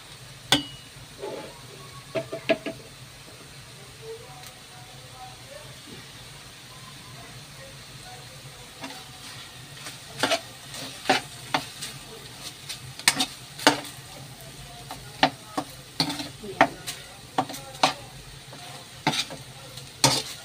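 Bagoong shrimp paste sizzles steadily in a hot pan for Bicol Express, with a spatula scraping and clacking against the metal in irregular bursts, close by and fairly quiet.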